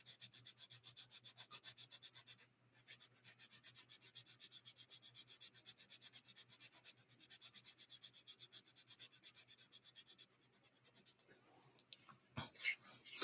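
A part sanded thinner by hand, rhythmic scratchy rubbing strokes in regular bursts with short pauses, fairly quiet and close, a few sharper clicks near the end.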